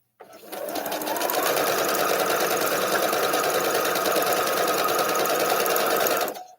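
A sewing machine stitching an arrowhead quilt block, running in one steady, close, fast-whirring burst for about six seconds before stopping abruptly.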